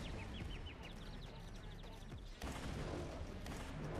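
Rapid bursts of video game gunfire in Skibidi Toilet crackle continuously over a dense, noisy background, with one sharp louder shot near the middle.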